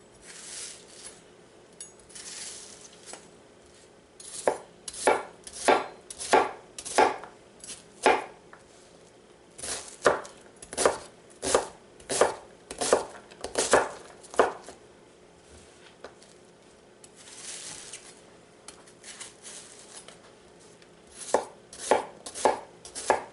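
Steady bursts of knife strikes on a cutting board as a Winco Acero 8-inch hollow-ground chef knife finely chops a red onion, close and crisp, in quick runs separated by short pauses.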